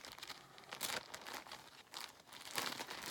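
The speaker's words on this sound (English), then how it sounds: "It's a plastic bag" Plastic bag crinkling and rustling up close as it is handled and opened, with irregular bursts of crackle over about three seconds and no talking.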